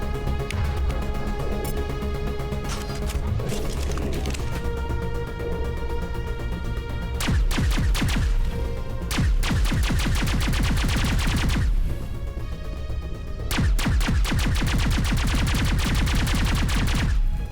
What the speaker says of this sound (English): Kind of like the sound of the pulse rifle better.